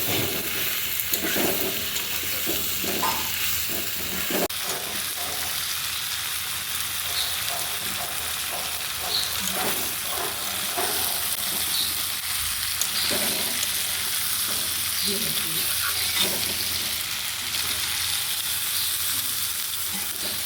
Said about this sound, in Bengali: জিরা ধনে মশলাগুলো কষিয়ে এবার আমি আলু আর শালগমটা দিয়ে দিলাম।